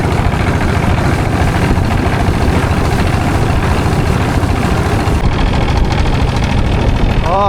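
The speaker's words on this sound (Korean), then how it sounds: "엔진에 시동을 거시네" A boat engine runs loudly on the water in Myanmar, a rough, heavy rumble that holds steady throughout, with a brief voice near the end.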